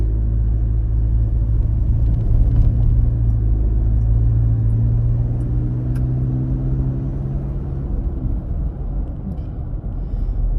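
A car driving along a road near Bidadi, heard from inside as a loud, steady low engine rumble and road noise, with a slight rise in pitch midway as it moves on, no talking.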